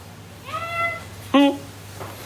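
A cat meows twice at close range, a softer drawn-out call followed by a sharper, louder one, over a low steady background hum.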